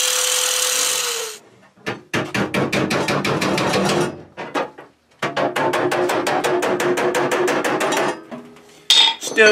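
Hammer and dolly strike the steel fenders of an R32 Skyline drift build in rapid, sharp metallic bursts, close and loud, broken by short pauses between volleys.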